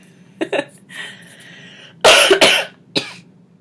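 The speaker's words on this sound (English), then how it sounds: "Hopefully my cough goes away here soon." A person coughs several times, two quick small coughs, a throaty rasp, then a loud harsh double cough and one final cough, close up.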